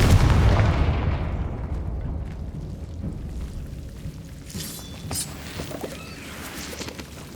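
A Confringo fire spell explosion in Hogwarts Legacy, opening with a heavy, loud boom that rolls and fades over several seconds, followed by scattered smaller pops and crackles.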